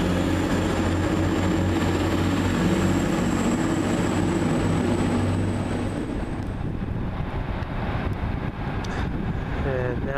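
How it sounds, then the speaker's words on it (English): Northern Rail class 156 diesel unit pulling out of Bolton station, a steady loud rumble and engine drone with a faint high whine, easing off toward the end amid open-air wind noise. "1515 Northern Rail service from Southport to Manchester Airport, 156489"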